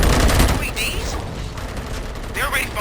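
Gunfire in the video game RoboCop: Rogue City: loud rapid bursts at the start, then mechanical clatter and further shots mixed with voices.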